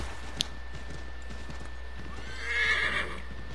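Horse whinny and hoofbeats from Assassin's Creed 3 gameplay, a sharp snort early on, then a loud rising neigh near the end, all over a steady background hum.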